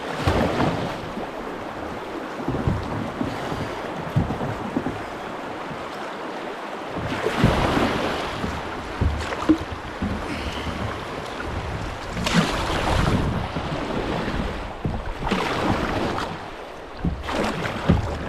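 Canoe running Muldoon Rapids on the Big Fork River, rushing whitewater with splashes and bursts of surging water against the hull, loud and close throughout with no talk.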